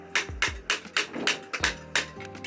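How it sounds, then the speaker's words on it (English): A hammer drives a punch tool through cardboard design cards used for Banarasi sari weaving, giving a steady run of about nine sharp, close strikes, each with a short hollow ring, and no voices. "uses this tool and a hammer to pierce holes in them"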